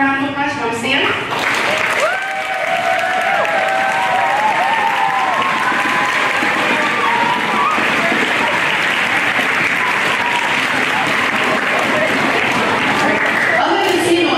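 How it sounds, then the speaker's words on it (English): At a school spring concert with band, orchestra and chorus, the audience in the stands gives a loud, sustained round of applause that continues unbroken for over ten seconds, with some crowd voices mixed in. "Can you get one more round of applause from the stand?"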